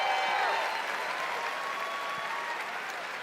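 A large crowd at the Bethesda E3 showcase claps steadily and densely, sustained applause filling the whole stretch at an even, slightly fading level with no talk over it.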